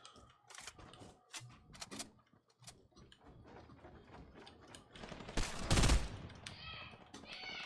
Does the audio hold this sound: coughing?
no